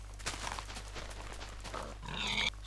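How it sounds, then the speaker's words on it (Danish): Pigs grunt in the Minecraft video game, several short snorting grunts spread across a few seconds, faint and close under a steady low hum. "Der er nogle griser."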